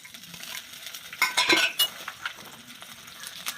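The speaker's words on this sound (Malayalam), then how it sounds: "ഇതിനകത്ത് നമുക്ക് ഇച്ചിരി വെളുത്തുള്ളിയും ഇഞ്ചിയും ഉള്ളി ചുവന്നുള്ളിയും കൂടെ നമുക്കിതിനകത്തോട്ടിടാം." Garlic, ginger and shallots frying in coconut oil in a pan, heard as soft sizzling with scraping stirs and light clinks of a utensil against the pan, close and fairly quiet, without speech.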